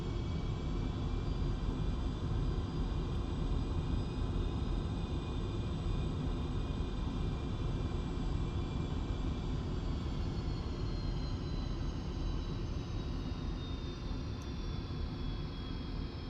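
An aircraft taxis in the DCS flight simulator, its jet engine giving a steady, loud, broadband roar with a faint high whine that dips slightly partway through, with no talk.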